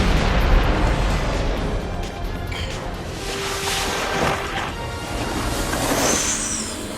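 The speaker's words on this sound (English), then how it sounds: "The spectacle. The explosions." Big action-film explosions from the 1999 James Bond movie The World Is Not Enough roll out as dense, booming rumbles with continuous blasts and debris noise over about seven seconds.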